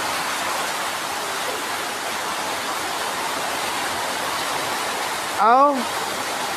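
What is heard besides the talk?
heavy rain falling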